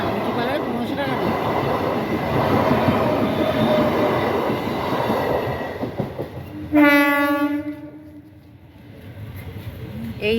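A train rumbles past a level crossing with a continuous, fairly loud roar, then gives one sharp, steady horn blast that fades as it moves away.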